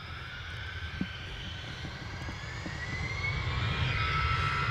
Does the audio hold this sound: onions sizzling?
no